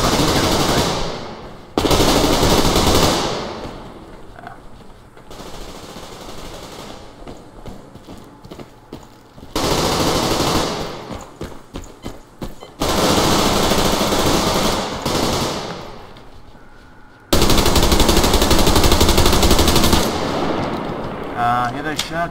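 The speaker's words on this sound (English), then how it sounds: "Shotgun." Loud bursts of shotgun fire in the online shooter game Survarium come in several separate volleys of rapid, close blasts, divided by quieter stretches of game ambience and occasional player talk.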